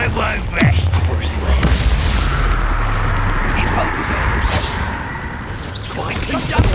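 A Confringo blasting spell cast in Hogwarts Legacy lands as sharp whooshing bursts and booming impacts amid ongoing combat sounds, near and loud, with speech mixed in.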